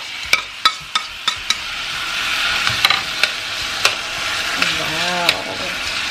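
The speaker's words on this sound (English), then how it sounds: "So I'm gonna go in now with the beans." Rinsed canned organic Goya beans sizzle and simmer in an electric hot pot alongside garlic and shallots, with a spoon clinking against the pot in sharp taps over a steady frying hiss.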